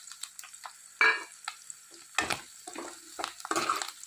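Drumstick pods with curry leaves fry in a pan for a ridge gourd curry, giving soft sizzling and intermittent scraping stirs with a few sharper clinks, close by and fairly quiet, with no talk.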